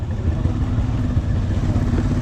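A motorcycle on a road trip around Talim Island gives a loud, steady, close engine drone with rattling clatter throughout and no speech.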